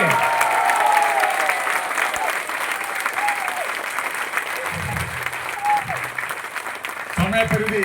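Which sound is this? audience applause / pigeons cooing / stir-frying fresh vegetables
audience applause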